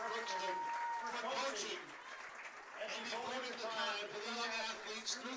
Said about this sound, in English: Let's make a big round of applause.